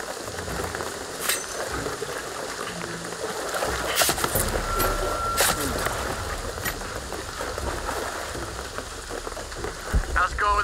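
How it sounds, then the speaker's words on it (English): Steady rain pours in the rainy jungle world of the action-adventure game Shadow of the Tomb Raider, a dense constant hiss with occasional louder spatters and brief thumps throughout. "the rain is gonna flood it"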